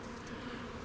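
Honey bees in a beehive make a dense, steady buzzing drone, close and continuous through the short stretch, with no talk over it.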